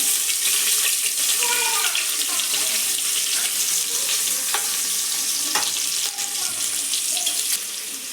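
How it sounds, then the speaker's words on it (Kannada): Chopped onions hiss and sizzle steadily in hot oil in a pan for a dill pulao, a dense crackling frying noise that carries on evenly from start to finish. "ಈಗ ಇಲ್ಲಿ ಈರುಳ್ಳಿ ಹಾಕೋತಾ ಇದ್ದೀನಿ ನಾನು"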